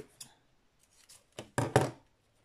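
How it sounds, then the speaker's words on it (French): Scissors snipping through gift-bag ribbon, close and quiet, a few faint clicks followed by two or three crisp, louder cuts in quick succession near the end. "Je vais couper ici."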